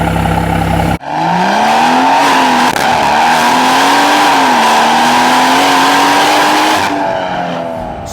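A BMW M140i with a B58 engine, stage 2 tune at 450 bhp and a straight-pipe exhaust, roars loudly under load, its pitch climbing steadily through a long, sustained pull before easing off near the end.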